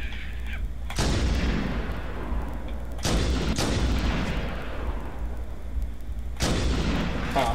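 Heavy booming gunfire from marines in the video game Halo: The Master Chief Collection, three loud blasts each trailing off in a long rumbling decay.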